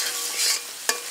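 Whisked yogurt going into a frying spice paste and being stirred, a soft hissing sizzle swelling briefly, then a single sharp clink of a utensil near the end.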